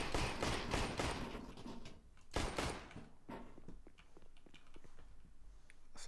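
Gunfire rattles through a Counter-Strike map, with dense bursts at the start, a loud crack past two seconds, and scattered quieter shots after that. No voices.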